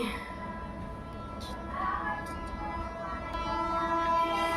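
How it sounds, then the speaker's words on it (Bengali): A train passes at a distance while sounding its whistle, a sustained tonal blast over a steady rumble of rolling wheels, heard outdoors amid town traffic with autos and bikes nearby. "ওদিকে ট্রেন যাচ্ছে হুইসাল দিতে দিতে"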